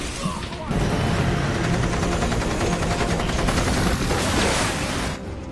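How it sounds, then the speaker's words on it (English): Dense gunfire fills a film battle scene, rapid overlapping bursts like machine-gun fire crackling loudly and continuously for several seconds alongside warplane-backed combat. "Gunfire erupts."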